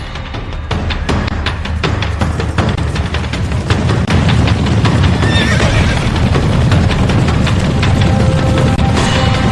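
A herd of wild horses on the open plains, with loud whinnying and neighing over dense, rapid hoofbeats and a rumbling gallop, sustained throughout.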